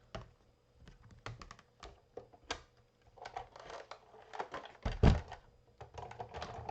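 Paper card layers being cranked through a Big Shot die-cutting machine, heard as a run of irregular clicks, taps and thunks from the handle and rollers, close and fairly quiet, with no talking.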